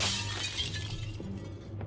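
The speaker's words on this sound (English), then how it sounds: "Take a mighty swing with a hammer and crash, the mirror shatters" A mirror struck by a hammer swing shatters in the Shadowgate PC game, a loud crash of breaking glass at the start that fades into a thinning, scattered tinkle of falling shards.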